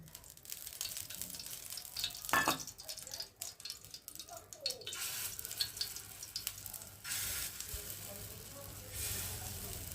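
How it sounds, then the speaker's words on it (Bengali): Khesari dal fritters frying in a little oil, a steady soft sizzle with faint crackles and scraping, a sharp clink midway, and speech heard in places over it. "ভেজে নেব।"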